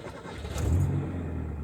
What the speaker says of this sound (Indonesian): kalau teman-teman mau dengar suara mesinnya nih, saya nyalain nih mobilnya